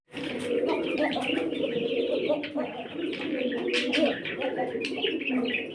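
Pigeons cooing steadily in a loft of breeding pairs, overlapping low throaty coos with occasional chirps from other birds, close and fairly loud throughout.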